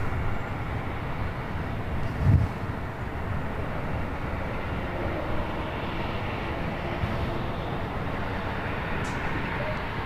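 A SkyWest CRJ 700ER regional jet, flying as American Eagle, takes off from runway 24 left at LAX, a steady broad engine roar that holds constant with a brief thump early on.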